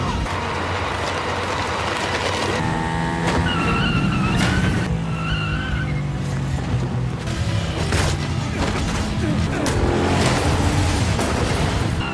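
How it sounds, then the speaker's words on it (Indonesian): Cars tear through a film chase scene as rival vehicles compete to grab a passenger, with loud, continuous engine roar and bursts of tire skidding filling the whole stretch, no talking. "Aksi rebut-rebutan Hana itu pun terjadi dengan mobil dari pihak Korea Selatan yang juga berusaha membawa Hana bersama mereka."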